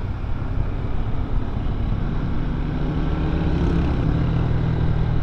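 Motorcycle engine labouring as it climbs a steep, storm-damaged road from Calaca toward Malagundi point, a steady loud low drone that holds throughout with no break.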